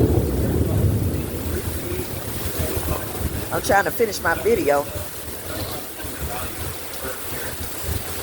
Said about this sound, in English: ooh, this rain is blowing.